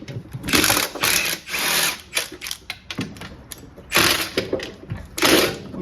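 Ratchet loosening bolts on the rear differential of a Honda CR-V, rapid clicking bursts in uneven spurts with short pauses, close and fairly loud.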